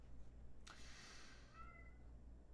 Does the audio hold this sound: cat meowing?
yes